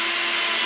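Power drill driving screws into melamine particleboard cabinet panels, a steady close whirring grind running throughout with no pauses.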